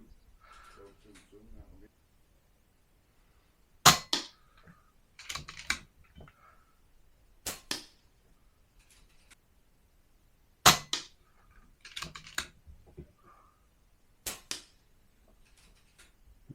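A Reximex Lyra air rifle fires a series of sharp, loud shots, six distinct cracks spaced a few seconds apart, each followed by a quieter pellet impact, with a brief voice at the start.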